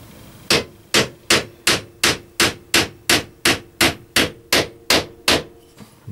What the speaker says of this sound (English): is nailing a mirror into this mirror frame